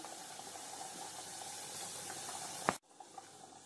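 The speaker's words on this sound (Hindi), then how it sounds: "कम फ्लेम पे हमें इनको अब फ्राई करना है गोल्डन ब्राउन होने तक" Pieces of saka dough deep fry on a low flame in hot oil, giving a steady, close bubbling sizzle that cuts off abruptly near the end and leaves a quieter hiss.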